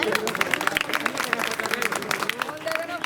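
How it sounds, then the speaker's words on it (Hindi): A crowd gathered in Daulatpur, Ghaziabad claps to welcome Rajratan Ambedkar, a dense patter of many hands close by that continues throughout, with voices and crowd chatter underneath. "सभी लोग उनका जोरदार से स्वागत करिए, ताली बजाकर।"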